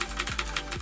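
Keystrokes on an inexpensive black E-Element Z88 RGB mechanical keyboard fitted with imitation Cherry Red switches, a quick run of close, crisp clicks at an even typing pace with no voices.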